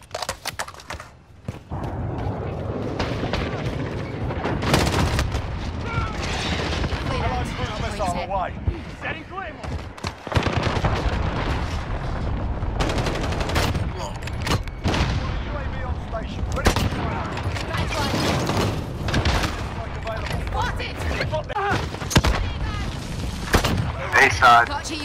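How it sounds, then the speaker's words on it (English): Sustained gunfire in the Modern Warfare video game, a dense chaotic run of rapid shots and bursts, loud and close, with a voice talking over the action. "I'm taking fire!"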